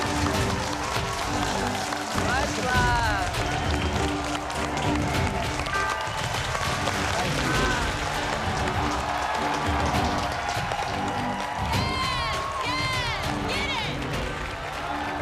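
A crowd of returning contestants and family applauds and cheers in the MasterChef US kitchen, with sustained clapping and whoops going on under overlapping talk throughout.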